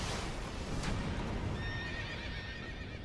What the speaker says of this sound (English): Nintendo is still using the same horse sound effects